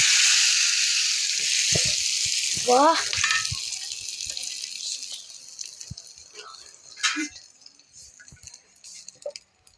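Tempering sizzling in hot oil, a bright hissing burst that fades over several seconds, with scattered small clinks and a brief voice in the background.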